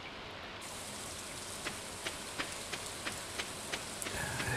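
Steady rain falls in a farming video game, a dense soft hiss with scattered drip-like ticks at irregular intervals, fairly quiet and with no music or voices over it.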